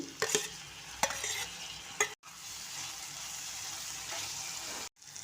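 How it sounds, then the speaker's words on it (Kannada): Finely chopped tomatoes frying with browned onions in a pan, with a close sizzle and several sharp scraping stirs early on, then a steadier hiss broken by two brief silent gaps. "ಸಣ್ಣದಾಗಿ ಕಟ್ ಮಾಡಿ ಇಟ್ಕೊಂಡಿರುವಂಥ ಟೊಮೆಟೊ ಹಾಕ್ತಾ ಇದ್ದೀನಿ"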